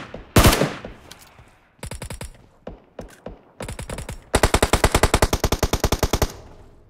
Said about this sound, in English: He's in the hangar shooting at some guy.